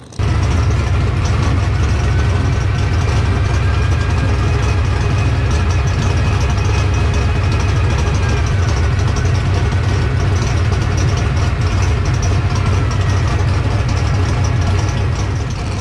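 A Holden HT Monaro no-prep drag car with a big-block engine and nitrous kit idles before a race, giving a loud, steady, deep rumble that holds throughout with no talk over it.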